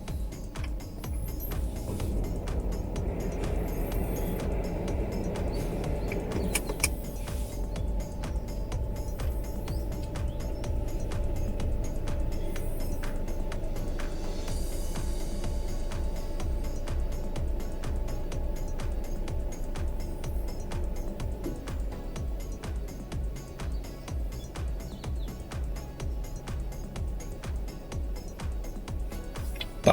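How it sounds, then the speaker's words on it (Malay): A Perodua Ativa car's air conditioner running at fan speed 1 with the engine idling, a steady low airflow hum and faint ticking that stay constant and quiet throughout. "kita nak hidupkan aircon speed 1"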